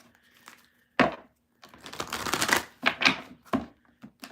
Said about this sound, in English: That was like not a good shuffle.